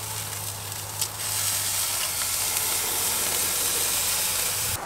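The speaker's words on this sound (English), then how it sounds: "time to flip the steak" A steak sizzles on a Char-Griller grill just after flipping, a loud, close, steady hiss and crackle that swells after a brief clatter and holds over a faint low hum.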